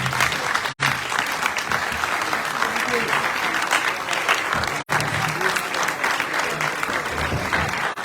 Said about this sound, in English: let me applaud them